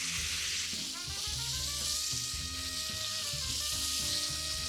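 Angus steak and vegetable kebabs sizzle loudly on a hot grill, a close, constant hiss and crackle with a low tonal hum beneath, and no talk.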